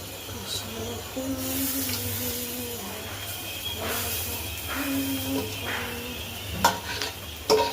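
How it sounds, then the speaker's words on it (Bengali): Potatoes frying in a pan for bread chop, a steady sizzle under occasional stirring scrapes, with a faint tonal hum in the background and a couple of sharper clinks near the end. "এরপর আমাদের আলু দিতে হবে, ঠিক আছে, একটু ভাজতে হবে।"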